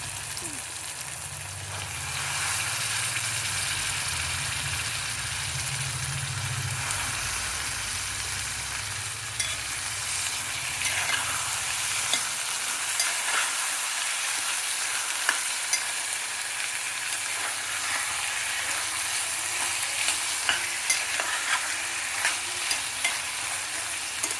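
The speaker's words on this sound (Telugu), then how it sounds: "ఇందులో పెసలు వేసుకోవాలండి, నానబెట్టిన పెసలు 1 గంట నానితే చాలు" Soaked green moong dropped into a hot pan with fried seasoning and then stirred, giving a loud close sizzle followed by continuous frying hiss and repeated scraping of the spoon against the pan.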